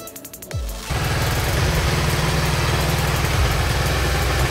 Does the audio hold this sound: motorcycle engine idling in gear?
yes